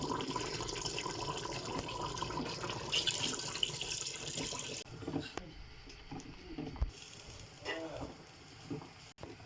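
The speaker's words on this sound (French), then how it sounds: "Maintenant, je vais ajouter de l'eau." Water poured into a pot of cooked onions, a rushing splash for several seconds that cuts off midway, followed by quieter clinks and stirring noises, with a voice talking over it.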